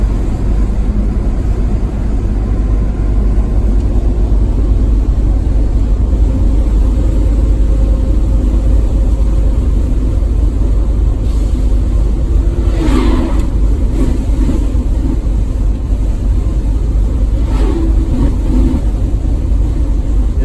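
A bus engine hums low and steady throughout a smooth ride, with a constant cabin rumble and a few faint rattles and clunks near the end.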